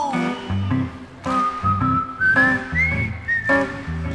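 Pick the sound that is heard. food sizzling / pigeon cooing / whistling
whistling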